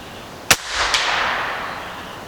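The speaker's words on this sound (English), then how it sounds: "This ain't exactly a powerhouse of an air gun, but you do get a lot of shots for a big bore." A Netvor 458 big bore air gun fires one sharp, loud shot, followed about half a second later by a second crack or impact and a long fading hiss of released air.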